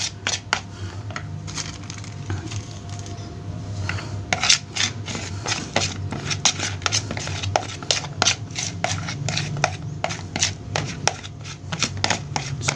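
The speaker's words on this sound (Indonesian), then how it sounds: "kita aduk dulu hingga menjadi satu" A homemade carp fishing bait mixture is stirred and kneaded by hand, making a steady run of close, gritty rubbing and rasping scrapes with frequent short sharp bursts over a low background hum.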